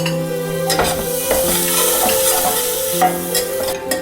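A whole onion's worth of chopped onion frying in a pan with green chilli for chicken soup, a steady loud sizzle broken by repeated scraping stirs and a few utensil clinks, with no talking.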